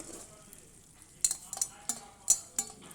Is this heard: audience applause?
no